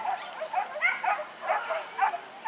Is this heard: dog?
yes